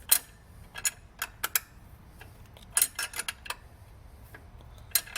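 A wrench clicks back and forth on a 14 mm bolt of a 1994–2002 Dodge Ram power steering pump in a cramped engine bay, making bursts of quick metallic ratcheting ticks with short pauses between strokes.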